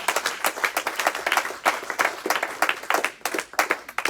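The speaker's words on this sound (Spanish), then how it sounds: "No sé si da un aplauso fuerte al Señor." A church congregation claps together in a loud, dense burst of applause that keeps going with a quick, uneven rhythm for several seconds.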